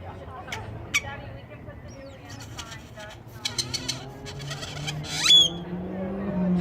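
A grackle calls from a tree in a string of varied squeaks, whistles and chattering notes, some sharp and piercing, moderately close over steady outdoor background noise.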